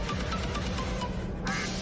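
A duck quacks repeatedly in a steady run of calls over a dense, continuous background bed, with no speech.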